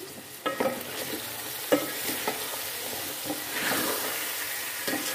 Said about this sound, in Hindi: अब इसको हम अच्छे से मिक्स कर लेते हैं